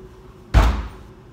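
A single heavy kick lands on a locked house door, one loud booming thud with a short rattling decay, close and alone in otherwise quiet surroundings.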